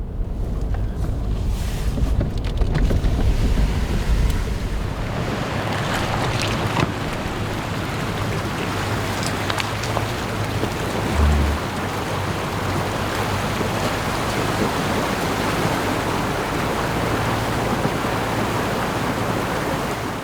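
A vehicle eases into a rushing flood stream in Kodiak, Alaska, with a loud, steady roar of moving water and broadband wash, plus low rumbling underneath.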